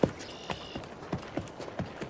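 Horse hooves clip-clopping at a walk on firm ground, evenly spaced clear knocks about twice a second, moderately close, with no talk.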